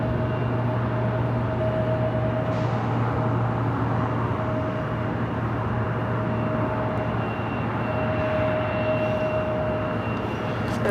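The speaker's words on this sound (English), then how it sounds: "Another E-Jets about to touch down here on runway 24 right." An Embraer E-Jet airliner touches down on runway 24 right at Los Angeles airport, heard as a continuous, fairly loud jet roar with a steady engine whine held throughout.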